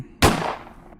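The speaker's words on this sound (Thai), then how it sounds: "เสียงปืนก็ดังขึ้น" A single sharp gunshot cracks close by and fades with a short echoing tail.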